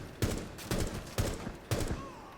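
Four separate bursts of gunfire in Rainbow Six Siege, shooting an enemy through a wall, evenly spaced over about two seconds and fairly faint.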